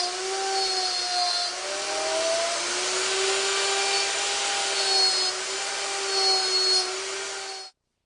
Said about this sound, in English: I'm using my homemade slot mortising machine to cut the mortises.